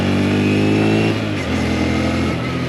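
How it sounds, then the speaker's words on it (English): Honda Grom 125 motorcycle accelerating hard, its small engine buzzing loud and close, pitch climbing steadily before easing off briefly and pulling again. "And it accelerates fine if you just get on it."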